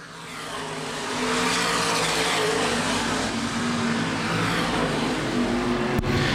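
Open wheel modified race cars roar around Baer Field Speedway during a 2012 feature race, a loud, steady engine drone of several cars running close together that swells early and holds throughout.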